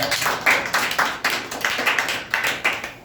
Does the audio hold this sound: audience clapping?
yes